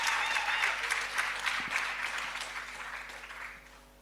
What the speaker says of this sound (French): Madame Paola Minkwe, sur vos acclamations, s'il vous plaît.